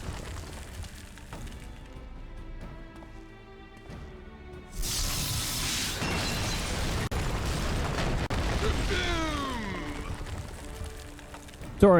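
A burst of explosions erupts in Final Fantasy XIV combat, a loud broadband boom after a quieter stretch, sustained rumble with swooping effects trailing off, then a sharp hit at the end; a voice talks in places.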